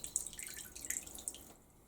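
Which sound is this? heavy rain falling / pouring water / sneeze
pouring water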